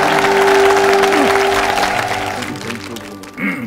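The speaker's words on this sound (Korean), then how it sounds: "김장훈 씨에게 여러분 큰 박수" Studio audience on a Korean talk show applauds loudly, a dense burst of clapping that slowly fades, with a few voices and a bit of talk emerging toward the end.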